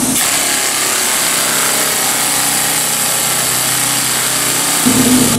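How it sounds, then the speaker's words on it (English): A steady, loud power sander works on a 1995 Mustang convertible hood, whirring continuously close by, a dense grinding hiss that holds without pause until a brief change in pitch near the end. "Alright, got my sanding done."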